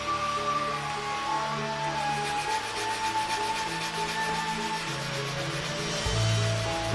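Steady abrasive rubbing as rust spots are worked off a knife blade, a continuous close scraping with a low hum underneath that grows louder near the end.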